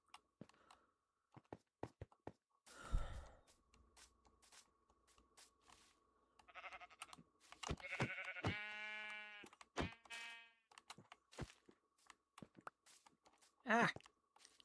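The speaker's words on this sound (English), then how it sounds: "Come back, sheep!" Sheep bleat in a Victorian town-building game, a few distinct wavering bleats, one long and clear in the middle, among sparse crunching and clicking noises and brief voices.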